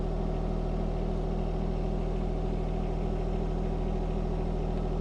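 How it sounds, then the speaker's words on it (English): John Deere 1025R compact tractor with a 260B backhoe creeping forward, its engine a steady loud mid-pitched drone that holds unchanged throughout, with no voices. "just move the tractor forward."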